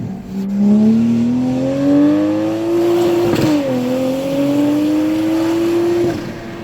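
A tuned Toyota A90 Supra engine pulls hard under full throttle on a mountain road, its note climbing steadily, dipping briefly at a shift around mid-run, then rising again, loud and close with no talk.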